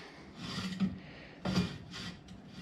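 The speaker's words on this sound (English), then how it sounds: "Drill a hole straight through." Drill boring a hole straight through wood while building a homemade crane, a rough rasping grind in two main bursts with quieter stretches between, close and without speech.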